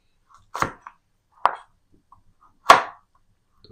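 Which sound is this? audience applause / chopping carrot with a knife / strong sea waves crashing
chopping carrot with a knife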